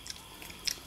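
Raw okra is bitten and chewed up close, giving a few faint crisp crunches spread across a short, quiet moment with no talking.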